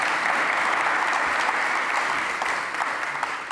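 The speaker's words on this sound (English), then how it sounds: "Can we all please have a round of applause for Sebastian?" An audience at a tech conference hall applauds steadily. The dense clapping carries on throughout at moderate level and fades slightly near the end.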